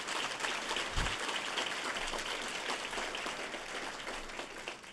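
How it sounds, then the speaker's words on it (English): A faculty and staff assembly audience claps for several seconds, a steady dense patter of many hands at moderate distance, with no talk over it. "Please give them a round of applause."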